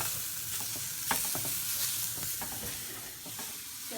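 Mushrooms fry in a pan with a steady soft sizzle, punctuated by occasional stirring scrapes and clicks, close and fairly quiet with no talking.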